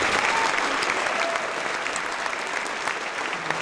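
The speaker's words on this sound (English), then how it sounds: "give them another round of applause" Audience at a high school Veterans Day ceremony gives another round of applause, a full, even roar of many hands clapping close and loud, slowly easing off toward the end.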